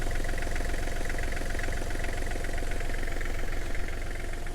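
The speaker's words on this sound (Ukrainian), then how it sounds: "Особливості, в принципі, двигунів Куботівських і серії GL є дуже м'яка робота двигуна." A Kubota GL23 tractor's diesel engine runs steadily at idle, a loud, even rumble with a soft rhythmic knock throughout.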